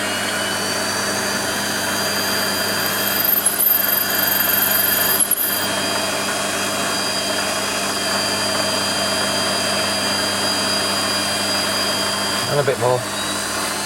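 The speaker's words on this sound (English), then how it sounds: "So we'll start with an 8mm drill." An 8mm drill boring through a steel part on a Warco lathe spinning at around 900 RPM, a steady whirring machine drone with faint clicks and a brief rattle near the end, while someone speaks briefly.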